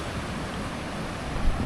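Strong sea waves surge onto a beach beside a La Union campsite, a dense, steady roar with wind buffeting the microphone and no voices.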